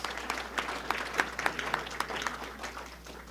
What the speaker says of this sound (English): So please acknowledge our sponsors with a warm round of applause.